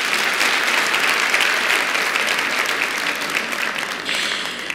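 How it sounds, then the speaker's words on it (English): An audience claps loudly and steadily for a few seconds at a talk-series event. The dense, even applause fades slightly toward the end, with no voices over it. "give yourselves a round of applause for being very dedicated towards the Masters of Success series"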